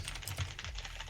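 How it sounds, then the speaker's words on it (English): Computer keyboard with many keys firing at once in rapid bursts, a dense clattering rattle close up and steady throughout, with no voices. "So you got the sound of like 10 keys going off at the same time, as fast as possible."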